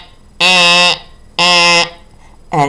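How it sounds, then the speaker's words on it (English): A loud, harsh electronic fire alarm buzzes in repeated half-second blasts separated by short pauses, starting a third time at the end. "it was a fire alarm"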